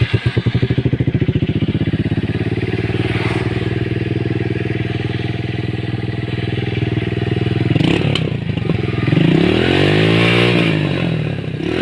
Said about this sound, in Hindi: आपके सिलेंसर में एक छोटा सा छेद करके ये आपका एग्जॉस्ट का खर्चा बचा सकता है।